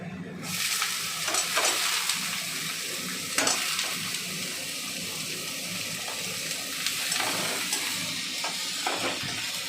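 Onions frying in hot oil with garlic, giving a loud continuous sizzle with periodic stirring scrapes close to the pan.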